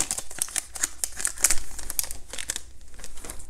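A foil wrapper on a trading card bonus pack is torn and peeled open by hand, giving close, crisp crinkling and ripping over a few seconds.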